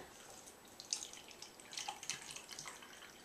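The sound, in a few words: water being poured into a lab beaker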